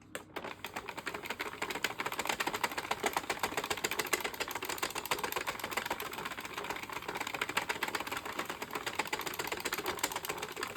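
An Addi or Sentro circular knitting machine cranks out rows of striped yarn, giving a steady, dense rapid clatter of plastic needles that runs nonstop and close by, with no talking.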